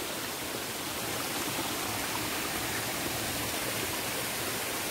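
A small forest waterfall near Gokarna rushes steadily and loudly, a dense, unbroken wash of flowing water with no voices.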